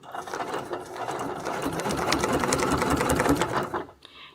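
A sewing machine stitching a line along a wreath template, a dense fast needle chatter that swells and runs steadily for a few seconds before stopping abruptly.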